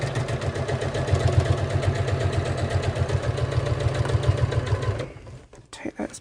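A sewing machine stitching a fabric bag into place, a steady close rapid needle chatter with a low motor hum running for about five seconds before stopping, followed by a few quiet handling clicks.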